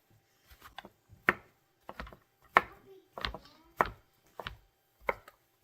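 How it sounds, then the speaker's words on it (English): A chef's knife rocks through mushrooms on a cutting board in a string of about ten crisp, uneven chops, close and fairly quiet, with short pauses between strokes and no speech. "I can just rock it back and forth here, and it'll make it more efficient for cutting this up"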